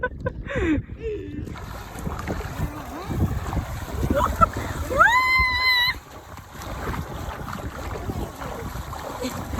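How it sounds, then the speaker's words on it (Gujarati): A homemade raft-like boat with an engine moving steadily through high water, with wind buffeting the microphone and a few brief tonal whines midway. "પાણી વધારે છે એટલે હોડી આપણી તેજ ગતિ જાય છે"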